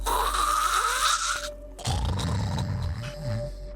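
A narrator's voice imitating the loud snoring of a scraggly sleeping hag in a cave, a long rasping inhale followed by a rumbling, growling exhale, close and loud.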